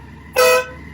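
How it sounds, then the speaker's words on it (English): A single short toot from the horn of a BMW F750GS motorcycle, loud and close, lasting about a quarter second against a quiet background. "Make sure the brake light works. Horn."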